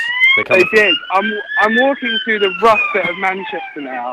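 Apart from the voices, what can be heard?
siren passing in the street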